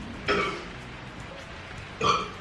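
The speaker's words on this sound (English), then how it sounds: "I just keep burping." Two short, throaty burps from a person drinking beer, one early and one near the end, close and moderately loud over a quiet room.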